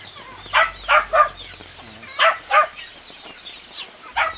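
Chickens at feeding time on a Filipino backyard farm, with a rooster crowing in several loud, drawn-out calls in two bursts, while hens cluck faintly underneath.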